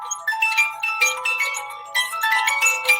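A bright, tonal poll alert chime sounds out in repeated melodic bursts of ringing notes over about three seconds, clean and alone with no talking.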